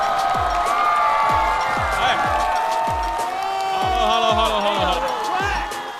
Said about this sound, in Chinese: 掌声有请大齐